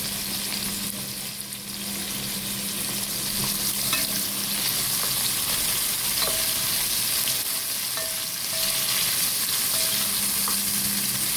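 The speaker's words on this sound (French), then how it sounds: "on ajoute maintenant notre oignon dans l'huile d'olive." Chopped onion sizzles steadily in hot olive oil in a home kitchen in Casablanca, a continuous close frying hiss with occasional soft stirring clicks and faint tonal hum from a washing machine in the background.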